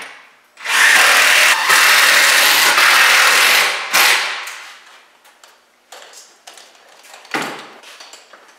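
A power drill drives screws into 4x4 wood posts for a round bale hay feeder, one long loud whirring run, then a short burst followed by scattered lighter handling knocks.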